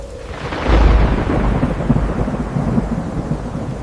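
A thunderstorm with a deep, loud rumble of thunder breaking out and rolling on over steady heavy rain, heard alone with no voices.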